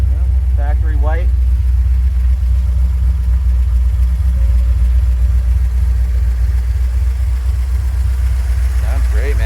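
A 1977 Corvette coupe with a 383 stroker V8 and headers idles steadily, giving a deep, even rumble throughout while people talk briefly nearby.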